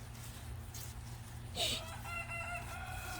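A young rooster named Goku, only just learning to crow, gives one short crow near the middle of the clip over a steady low background hum, with faint clucking before and after.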